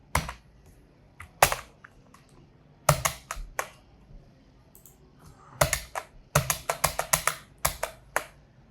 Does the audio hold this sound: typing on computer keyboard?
yes